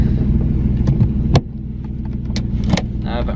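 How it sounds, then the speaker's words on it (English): Interior of a turbocharged Hyundai Genesis Coupe making about 400 wheel horsepower, a steady low engine drone at cruising speed with brief clicks and small cabin knocks, continuous and close, no talking. "I'm gonna give him a ride in the Genesis."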